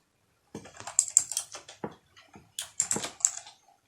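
Code being typed on a computer keyboard while scripting in Unity: two close, crisp bursts of rapid key clicks separated by a short pause, with no talking.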